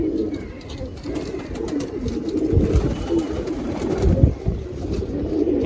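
Longduma pigeons coo steadily in a rooftop loft, a low, rolling murmur of several birds close by that swells in the middle, with faint background noise and no talk.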